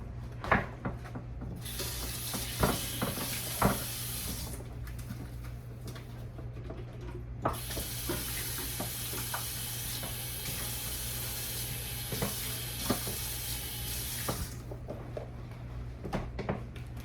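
Water runs from a kitchen tap into the sink during washing, a steady hiss that stops and starts twice, with clinks of dishes and utensils scattered through it.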